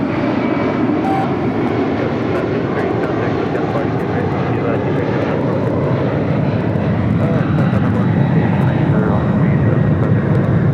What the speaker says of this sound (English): It's the MD-11 taking off.